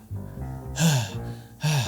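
A climber breathes heavily while ascending Mount Raung, two loud out-of-breath gasping breaths close to the microphone with quieter panting between them.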